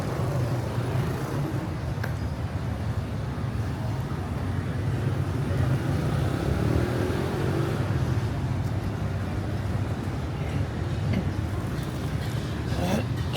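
Saturday evening street in Georgetown, Penang: a steady broadband rumble of passing cars and traffic with a low engine drone throughout, fairly close and continuous.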